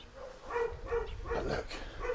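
Dogs bark repeatedly in a Tibetan mountain village, a series of moderately distant, somewhat muffled barks in an irregular rhythm over faint outdoor background.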